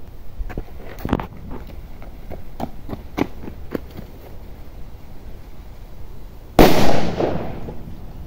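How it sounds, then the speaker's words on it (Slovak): A single small C4 firecracker of 0.35 g goes off in one loud, close, sharp bang near the end, after a stretch of scattered light ticks and footstep-like clicks. "Takže prvá petarda dneska je tu taká slabšia."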